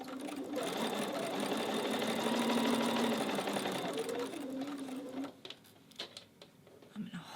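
A sewing machine stitches quilt fabric rapidly and steadily for about five seconds, then stops, leaving a few soft handling clicks.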